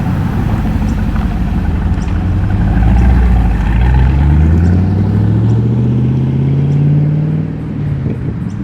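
A GTS sports car at a car show revs up loudly close by, its engine note climbing and then sweeping down in pitch as it drives past and pulls away.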